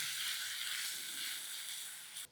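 Garlic, ginger and green chilli paste sautéing in hot oil over low heat with cumin and asafoetida, a steady close sizzle and hiss that cuts off abruptly at the end.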